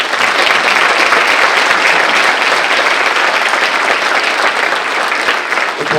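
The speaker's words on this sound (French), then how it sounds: "je vous demande d'applaudir les membres de la batterie fanfare" A concert audience applauds the drum and bugle band members at an autumn municipal wind band concert, with dense, loud clapping sustained evenly throughout.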